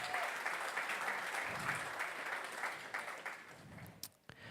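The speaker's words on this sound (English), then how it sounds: "Let's give Roush a nice round of applause here" An audience applauds at a Formula SAE Lincoln electric awards ceremony, a steady wash of many hands clapping that thins and fades near the end, with a few isolated claps trailing off.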